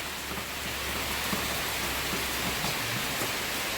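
Steady rain falls in a continuous, even hiss that stays at the same moderate level throughout, with no talking and no separate drops standing out.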